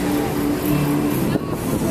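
Car traffic heard from inside a moving car, a constant loud road and engine rumble with tire noise and a brief passing whoosh, no clear talking.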